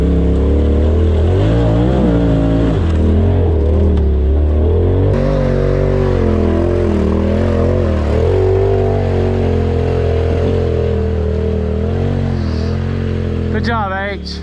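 Off-road vehicle engine growling and revving loudly throughout while it is guided over an obstacle, with a spotter's voice calling directions over the steady motor drone.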